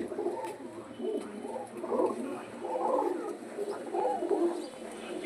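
Some thirty colour pigeons kept in a loft coo in overlapping low, throaty rolls, a steady chorus of soft repeated calls close by with faint background noise.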